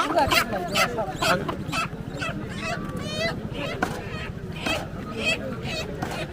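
Live local chickens at a village market squawk and cluck in repeated bursts nearby, amid a busy crowd with people talking throughout.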